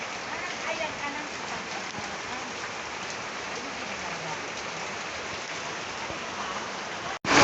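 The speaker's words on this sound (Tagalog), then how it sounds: "Umuulan." Steady, dense rain pours onto a surface close by, a constant hiss that holds throughout with no pauses.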